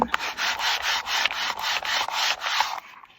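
A stamp is rubbed by hand on a Sizzix stamp and stencil tool, giving close, repeated dry back-and-forth scrubbing strokes at an even rhythm, about ten passes, with no talking.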